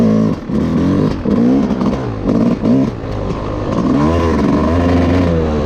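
A Yamaha YZ250 two-stroke dirt bike, not fully warmed up, revs loud and close in steady rising and falling bursts that fill the whole stretch with a buzzing engine roar.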